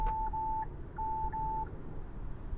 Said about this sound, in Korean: 차에서 우측에 이제 차량이 접근하니까 경고음이 울린 겁니다.